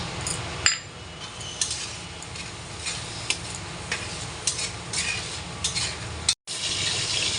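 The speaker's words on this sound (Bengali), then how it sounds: "গোবিন্দভোগ চাল, ডালটা ধুয়ে" Gobindobhog rice and dal being washed in water in a kitchen: a steady wet swishing and trickling, with light clinks and sloshes from stirring the grains, close and continuous, and a short dropout near the end.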